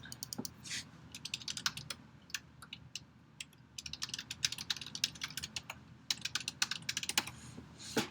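Rapid keystrokes on a computer keyboard as a password is entered at a login screen, coming in uneven bursts of close, crisp clicks with short pauses, over a low steady room hum.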